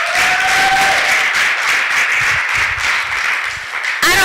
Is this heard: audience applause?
yes